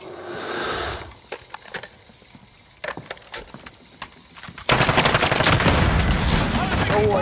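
Gunfire in Call of Duty: Warzone: scattered sharp cracks and short bursts, then a dense loud sustained barrage of automatic fire over the last few seconds.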